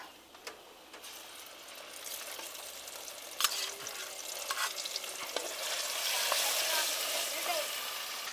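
Ground masala paste with garlic is stirred and fried in oil for a sardine curry, a sizzle building from quiet to louder with intermittent spatula scrapes and clicks, close up.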